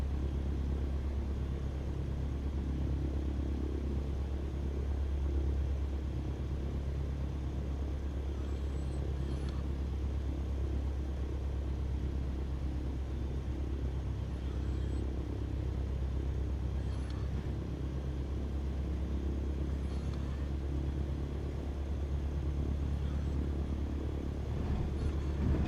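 A steady, low airplane engine drone in Microsoft Flight Simulator runs without a break on a final approach to a runway, an even rumbling hum with no voices.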